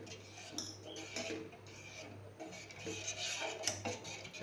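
A spoon stirs and scrapes ragi milk in a pan on the stove, making quiet, irregular metallic scrapes and rubs close by against a low steady hum, with no one talking.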